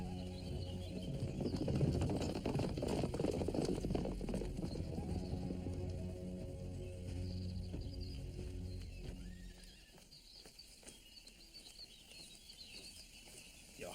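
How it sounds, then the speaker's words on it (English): A horse runs with rapid clip-clop hoofbeats, the horse racing against a rival's steed, loud and busy in the first half before thinning out, with a whinny and some faint voices mixed in. "he's trying to ride the black horse"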